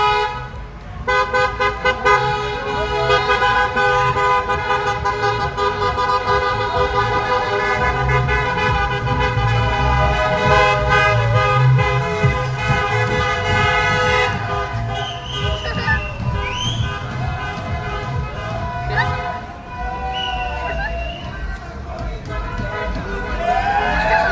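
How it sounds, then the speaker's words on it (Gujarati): Car horns toot repeatedly in overlapping bursts amid busy street traffic in Leicester, with a crowd's voices mixed in, loud and continuous, as people celebrate an India win. "આપણા ઇન્ડિયન લોકો પોતાની ખુશી કેવી રીતે વ્યક્ત કરે છે જો હોર્ન મારી મારીને"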